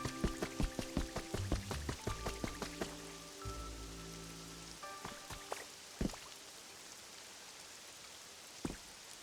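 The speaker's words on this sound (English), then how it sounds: "It's raining." Rain patters steadily in Pokémon Pokopia, soft and continuous beneath game music with gentle chiming notes and a few brighter droplet ticks, no voices present.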